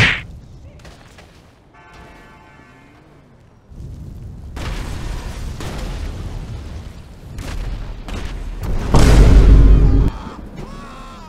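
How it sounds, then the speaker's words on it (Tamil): Fireball explosion in the video game GTA V, with a deep rumbling blast building to a loud booming peak and then fading, preceded by quieter impacts and clatter. "ஃபயர் பால் பார்த்தீங்கன்னா அந்த இடத்துல வந்து வெடிக்க வைக்கும்"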